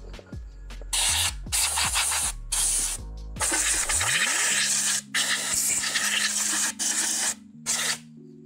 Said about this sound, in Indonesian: Bisa disemprot-semprot dikit-dikit ya untuk membuang debunya.